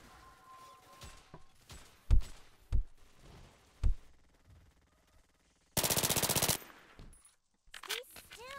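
Video game gunfire: a few sharp single shots, then a loud sustained automatic burst and scattered fainter shots.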